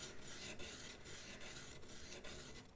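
A scrub plane iron's bevel is rubbed back and forth on a sharpening stone, a close, soft, continuous gritty rasping with a brief dip at each change of stroke, steady and rhythmic with no talking.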